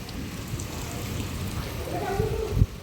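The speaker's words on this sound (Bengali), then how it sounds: "আর এই যে দেখুন ভালো বৃষ্টি নেমে গেছে এদিকে" Heavy rain pours down after a big storm, a dense, even roar of drops landing close by, with one brief low knock near the end.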